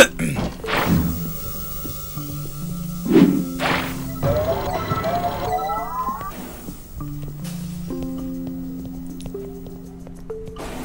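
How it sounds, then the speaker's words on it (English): Glass breaks in Quantum Conundrum, with several sharp crashing smashes and thuds spread through the scene, mixed with a talking voice and tonal game sounds. "the breaking of this glass is a necessary evil"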